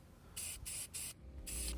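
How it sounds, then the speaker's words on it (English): Short bursts from an aerosol spray can painting cables for 60mm PC fans, four hissing sprays separated by brief pauses, close and fairly loud, with no talking. "spray painting the cables for the 60mm fans for the PCIe shrouds."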